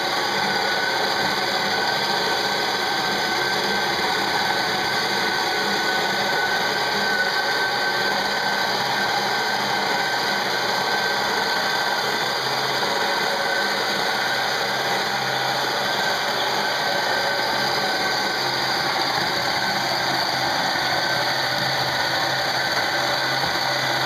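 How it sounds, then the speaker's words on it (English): A coffee grinder grinding beans for a Gaggia Classic espresso machine, a steady loud whirring motor hum running unbroken for the full stretch, close and alone with no talk. "So, well, let's grind it up."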